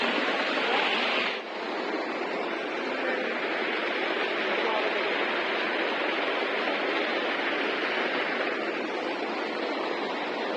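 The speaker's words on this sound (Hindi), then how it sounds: "पानी का वो बहाव तेज है ना, यहाँ पानी है बगल में" Fast-flowing river water in the Darma valley of the Himalayas near Panchachuli, a loud, steady rushing hiss close by that continues unbroken, with only a brief dip in level early on.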